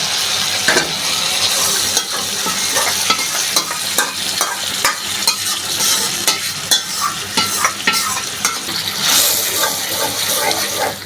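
Boiled mung dal gets sautéed into a spice paste for a pointed gourd curry, a loud continuous sizzle with frequent scraping and clattering stirs of a spoon in the pan.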